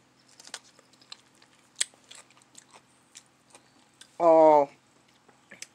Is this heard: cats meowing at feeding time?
no